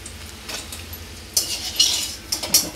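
Fried potatoes being lifted out of a pan into a bowl, with scraping, stirring and light clinks of a utensil against cookware in bursts, close up.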